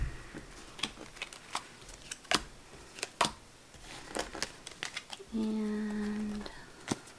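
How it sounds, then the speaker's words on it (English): Tarot cards shuffled by hand in a series of sharp, scattered riffling clicks, followed near the end by a brief sustained buzzy tone, with a voice talking quietly in between. "let's shuffle this one more time and split it here for the last one"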